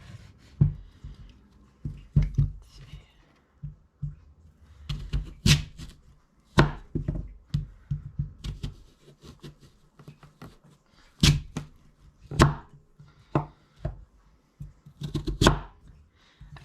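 A knife slices hard vegetables on a cutting board for a slow cooker pot roast, sharp irregular chops and thuds repeating in uneven clusters, close and crisp with short quiet pauses between cuts.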